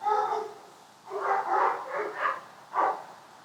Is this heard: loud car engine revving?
no